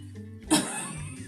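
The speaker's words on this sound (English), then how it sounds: "I just got the cough today," A woman gives a single sharp cough, close and fairly loud, followed by a brief breathy tail and quiet room sound.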